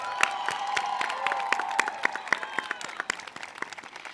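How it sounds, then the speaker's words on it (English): Scattered audience applause for the band and chorus at a high school graduation ceremony, distinct individual claps with light cheering that thins out toward the end. "Let's give it a round of applause to both the band and chorus who have performed beautifully tonight."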